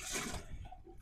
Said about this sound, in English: I'll just put some water in that area.